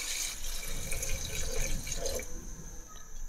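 A short, steady stream of water runs into a kadhai holding chicken ready for boiling. The splashing pour is close and fairly quiet and lasts about three seconds, with no talk.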